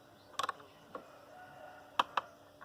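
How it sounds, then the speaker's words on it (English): A 14mm spanner loosens the nut holding a scooter mirror, producing a few faint metallic clicks and ratchet-like ticks in two small clusters against near silence. "14mm spanner"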